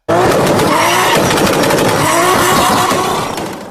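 A turbocharged car driven for drifting gives a loud, close roar with a rushing burst of released charged air as the throttle lifts, held for about three seconds before trailing off.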